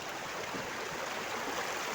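Water running by a riverbank where laundry is washed, a steady broadband rush with no breaks, moderately loud and close, with no speech over it.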